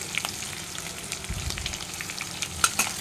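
Chopped onion with green chilli and herbs frying in oil in a pan, a steady low sizzle with occasional stirring scrapes and small pops, close and moderately quiet, no talking.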